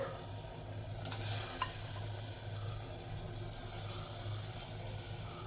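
Steady sizzling and bubbling from a pot as chicken pieces go into boiling curry gravy, with a brief stirring clatter partway through.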